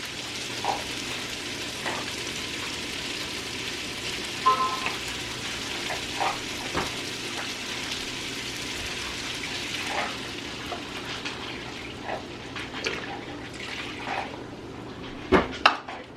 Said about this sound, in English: Now we need to add the broth, which is 2 cups, low sodium.